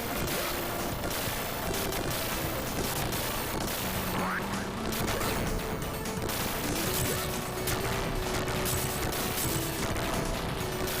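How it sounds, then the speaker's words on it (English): Dense bursts of small explosions and gunfire fill a busy Sega Genesis shooter by Treasure, crackling continuously over game music with tonal bleeps throughout. "these mini explosions kind of everywhere on the screen."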